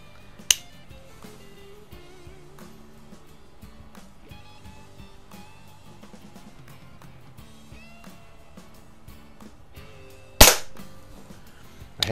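An Umarex Ruger Mark 4 air pistol fires twice, each shot a sharp loud crack separated by about ten seconds of quiet background with faint tonal sounds.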